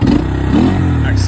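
A small engine revving as the accelerator is pressed, a loud close rumbling drone that rises briefly, heard alongside someone talking.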